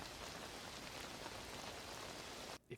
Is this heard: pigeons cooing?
no